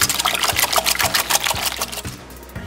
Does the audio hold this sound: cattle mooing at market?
no